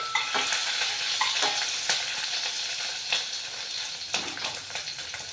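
Green and dried chillies with mustard seeds fry in a pan, giving a soft, steady sizzle with occasional sharp crackles and stirring scrapes.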